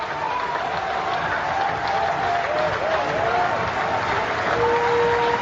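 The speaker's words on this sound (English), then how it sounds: "Standing up and applauding this wonderful innings." Cricket crowd at an India versus Sri Lanka Test match applauds a century, a steady wash of clapping and crowd noise with a commentator talking over it throughout.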